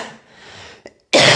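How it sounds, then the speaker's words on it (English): A single deliberate cough from an adult, short and sharp, close to the microphone, following a moment of quiet breathing. "I'm trying to make a cough."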